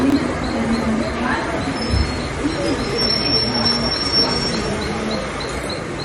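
A Mumbai local train runs with a continuous loud rumble and rattle, thin wheel squeal above, and faint pigeon-like cooing in the background.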